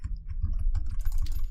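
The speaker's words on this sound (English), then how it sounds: "Here's another one of those typewriters." Quick, irregular clacking of typewriter keys in the video game Dunia: Masters, a short burst of close, crisp strikes with no speech.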